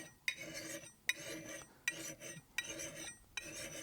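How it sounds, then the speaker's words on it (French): A metal sharpening file is pushed forward across an axe blade in five evenly spaced rasping strokes, each starting with a sharp scrape, close and fairly quiet. "La lime, je l'utilise toujours en poussant vers l'avant."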